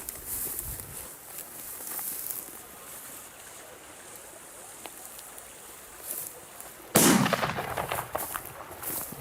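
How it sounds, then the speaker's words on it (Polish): A firecracker goes off outdoors, one sharp loud burst near the end that leaves a crater, after several seconds of quieter ambient background with some faint crackle. "No nie spodziewałem się po takiej petardzie, takiej mocy i takiego krateru"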